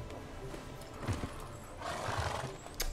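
Roach, the horse in The Witcher 3, lets out a whinny and snorts while hooves clip-clop close by, with a second neigh rising near the end over a low ambient bed.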